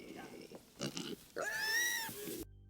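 A pig in a film scene gives a few short grunts, then a drawn-out, wheezing squeal, close and fairly loud with only faint background sound.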